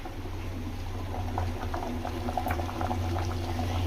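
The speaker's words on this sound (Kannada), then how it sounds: "ಈಗ ಅದರಲ್ಲಿ ಕುದೀತಾ ಇದೆ" Avarekalu huggi, a dish of field beans, lentils and rice, bubbles steadily in a pot with a continuous close simmering burble and small pops throughout, no voices.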